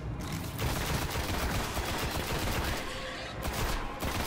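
Assault rifle fire in the Destiny video game, a dense, loud, continuous rattle of rapid shots lasting several seconds, broken by brief pauses near the start and end.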